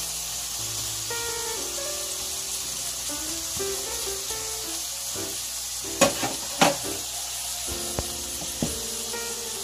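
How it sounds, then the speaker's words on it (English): Bacon and onions sizzling in olive oil in a pan, a steady soft hiss of frying with several scraping knocks as a utensil stirs them around, quiet and close, faint music in the background. "I've already got bacon and onions frying in some olive oil. We're just going to give that a stir around."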